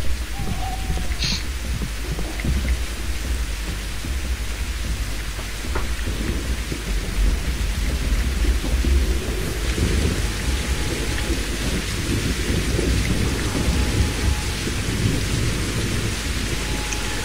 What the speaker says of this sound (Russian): ну дождь тут реально, мне кажется, что с дождем тут чуть-чуть перебор